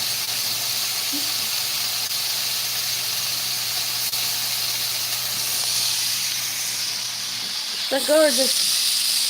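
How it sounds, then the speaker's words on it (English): Bacon sizzling in a pan while cooking chilli: a steady, loud hiss runs throughout, close by, and a voice briefly speaks near the end. "gorgeous bacon cooking"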